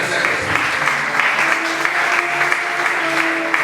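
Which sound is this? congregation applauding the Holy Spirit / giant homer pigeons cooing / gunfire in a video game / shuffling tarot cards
congregation applauding the Holy Spirit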